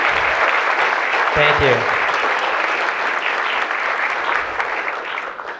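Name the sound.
audience applause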